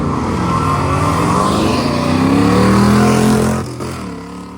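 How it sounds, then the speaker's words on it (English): A loud drag race car engine roars and climbs in pitch, then briefly drops as it shifts gear, the revving continuing close by. "You can hear him shifting, going through the gears."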